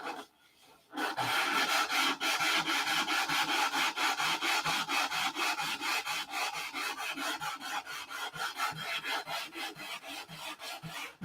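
Steady back-and-forth sanding on the clear nose glass of a P-47 scale model, a close, rhythmic rasp of regular strokes continuing for about ten seconds with no voices.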